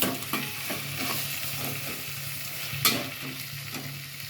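Prawn biryani masala being stirred in a pan with green chillies just added, a steady sizzle under scraping spoon strokes that land in a loose rhythm, one sharper clack near the end, no voices.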